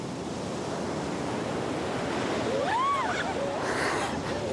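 Steady broadband wash of sea surf with wind rushing over the microphone, a faint whistling tone rising and falling midway.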